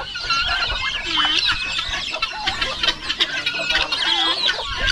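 A flock of chickens clucks and squawks at close range in rapid, overlapping calls, with higher squeals mixed in and a steady farmyard bustle behind.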